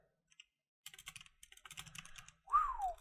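A computer keyboard clicks under quick bursts of typing, a few isolated taps and then a rapid run of keystrokes, close and fairly quiet, ending with a short electronic tone.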